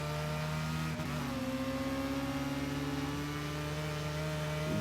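Datsun 510 engine in a racing video game, a steady droning hum with a slowly rising pitch, continuous and fairly loud with no talking.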